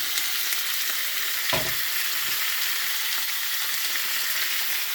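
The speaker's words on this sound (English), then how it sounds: "stir that around for about 6-7 minutes." Food frying in a pan with extra virgin olive oil, a strong steady sizzle with a single utensil knock and scrape partway through.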